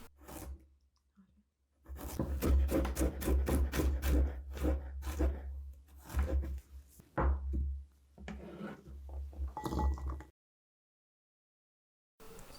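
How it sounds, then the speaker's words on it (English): A knife finely cuts ginger in a series of quick, crisp strokes against a board. The close, dense chopping runs for about eight seconds and then stops. "Finely cut ginger."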